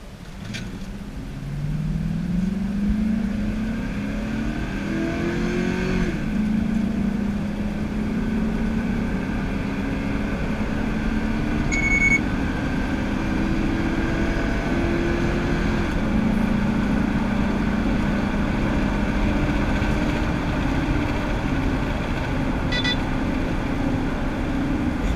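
A car with a 5.3 liter V8 making 270 horsepower and a high ring gear pulls away, its engine note rising and holding steady as a close, continuous drone for about twenty seconds.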